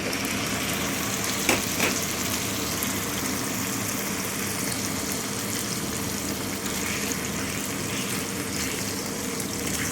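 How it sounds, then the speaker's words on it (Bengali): Minced meat frying in olive oil in a frying pan, a steady, dense sizzle that holds evenly close up, with a couple of brief knocks near the start. "ফ্রাই প্যানের মধ্যে অলিভ অয়েল নিয়েছি এখন এই কুচি করে রাখা মাংসগুলিকে দিয়ে দেব"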